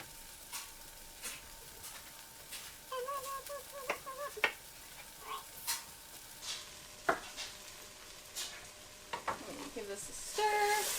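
Bell peppers sizzle in a pan for chicken chili, a soft continuous frying hiss broken by scattered spoon scrapes and light clinks as they are stirred, close and fairly quiet.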